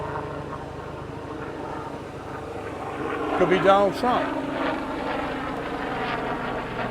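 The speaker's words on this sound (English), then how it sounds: "Got us a helicopter." A helicopter passes over Lido Beach in Sarasota, Florida, its droning rotor and engine noise swelling midway and fading under nearby talk and beach ambience.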